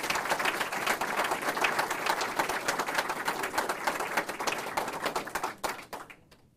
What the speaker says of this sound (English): Please give a round of applause congratulating all of this year's LEAP Award recipients.